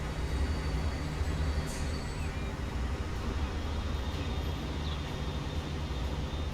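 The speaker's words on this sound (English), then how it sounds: "we have to defer to the cargo train" A cargo train rolls past in the railway game Transport Fever 2, a continuous low rumble and wheel drone at steady loudness with faint higher squeals, no talk.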